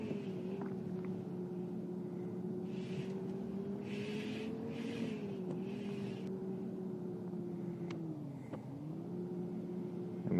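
The starter bus in Bus Simulator Ultimate drives the Hamburg–Stuttgart route. Its steady, low engine drone rises and falls slightly with speed, fairly faint and continuous, with no talking over it.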